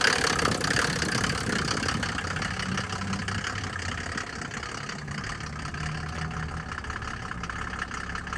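A 1987 Mercedes 300TD with the OM603 diesel and a Holset HX32 turbo idles close up, a steady rough diesel clatter with a low rumble that holds even throughout.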